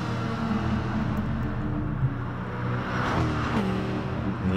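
A Corvette C5 race car engine in Gran Turismo Sport revs hard on the Bluemoon infield circuit, with rising and falling engine tones as it works through gears, steady and continuous with no voices.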